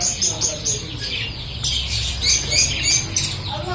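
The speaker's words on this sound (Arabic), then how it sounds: "هيدا الحجل." A caged partridge makes repeated sharp, high squawking calls in a loose rhythm, fairly close, over low background noise.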